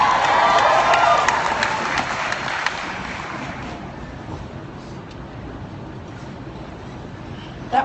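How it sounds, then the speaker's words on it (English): Audience applause at an essential oils presentation, a dense burst of clapping that fades gradually over several seconds, leaving a quiet room murmur. "That was a thunderous applause."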